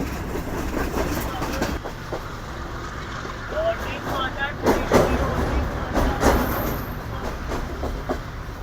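Pakistan Business Express passenger train travelling between Karachi and Lahore and reaching Hyderabad Junction, a continuous rumble of wheels on rails with intermittent clanks and rattles, steady and close, with voices talking over it.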